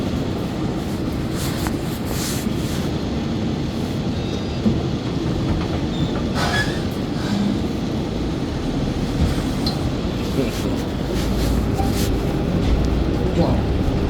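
A subway or rail train runs steadily throughout, a continuous low rumble with faint wheel clatter and squeal, close and loud, with brief talk in the background.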